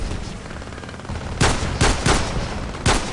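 Pistol gunfire in the video game Battlefield Play4Free: four sharp, loud shots at irregular intervals ring out over a steady rumble of battle noise.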